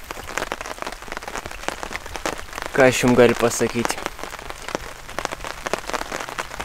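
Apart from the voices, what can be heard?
rain falling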